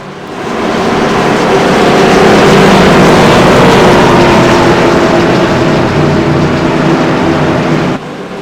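NASCAR Xfinity race car engines at Talladega in iRacing roar loud and sustained as the field runs past, a dense, swelling drone that fades slightly near the end.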